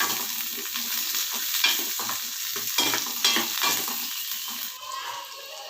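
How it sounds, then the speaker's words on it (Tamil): Small onions and curry leaves sauté in hot oil with a continuous bright sizzle, while a spoon stirs the pan in intermittent scraping strokes, close and fairly loud. "ஒரு கொத்து கருவேப்பிலை, இதெல்லாம் போட்டு நல்லா வதக்குங்க."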